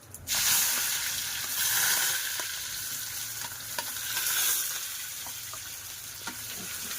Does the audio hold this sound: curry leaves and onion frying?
yes